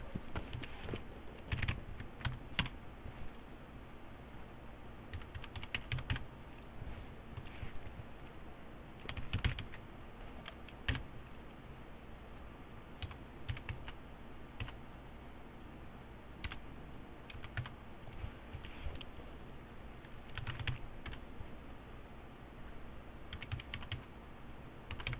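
Typing on a computer keyboard to enter accounting data, a long run of soft, uneven key taps and clicks, close but quiet, with no talk over it.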